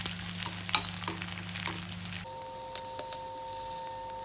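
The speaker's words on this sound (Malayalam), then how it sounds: "നമ്മൾ ഈ ഇട്ട് കൊടുത്ത ഉള്ളി നന്നായിട്ട് ബ്രൗൺ കളറാകുന്നിടം വരെ അതിനെ ഒന്ന് വറുത്തെടുക്കുക." Onion, curry leaves and dried red chillies frying in a pan for raw mango pachadi, a soft continuous sizzle with a few light stirring scrapes, close by and fairly quiet, with no voices.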